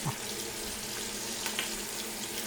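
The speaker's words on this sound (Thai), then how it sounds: "ทอดไฟกลางนะครับ ไปเรื่อย ๆ นะครับ" Pork belly fries in a shallow layer of oil in a pan over medium heat, giving a steady, close sizzle that continues without a break.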